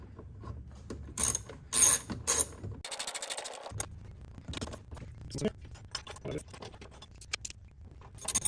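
Ratchet clicking in short bursts while tightening spark plugs on a third-generation Toyota Tacoma, with a brief louder spin partway through, close and fairly loud, and some handling noise between strokes.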